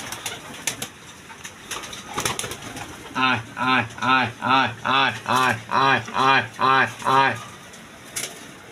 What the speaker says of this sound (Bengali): বিভিন্ন জাতের কবুতর আছে